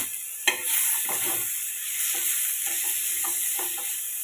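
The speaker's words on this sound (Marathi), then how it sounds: "भाजी छान अशी परतून घेते" Cooked vegetables being stir-fried in a pan, a steady hiss of sizzling with a sharp clank near the start and repeated soft scraping of a spatula, close and without talk.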